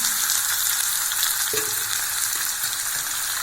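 Onions for a chicken fry sauté in hot oil, giving a steady dense sizzle throughout with a faint stirring scrape midway, close and without voices.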